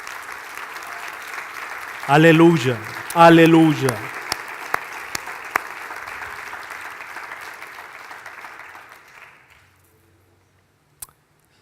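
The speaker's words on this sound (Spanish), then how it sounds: "Dele fuerte el aplauso al Señor." A church congregation applauds during a sermon, a sustained wash of clapping under a voice calling out twice, then fading to near silence with one last sharp clap.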